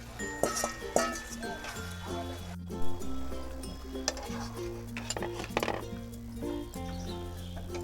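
Metal utensil clinks and scrapes against a pan as fried fritters are stirred into chilli chicken, irregular clattering knocks close up, with a voice talking in between.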